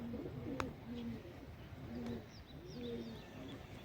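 Pigeons coo in soft, repeated rounded phrases at an even rhythm, fairly quiet against light outdoor background noise, with a few faint chirps.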